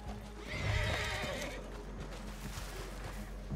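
A horse neighs loudly early on in the Red Dead Online video game, followed by steady clip-clop of hooves and game ambience running alone throughout.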